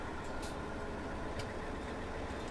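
A combine harvester drives in Farming Simulator 17, a steady low engine drone under the game's constant noise for a few seconds, with a couple of faint clicks and no talking.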